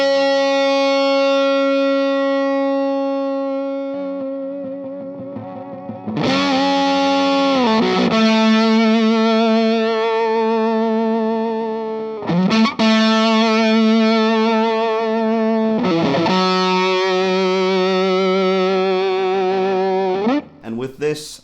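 A fuzzed electric guitar through a Tone Bender pedal holds long distorted notes whose decays break into a sputtering, gated crackle, with several new notes struck between the fading tails.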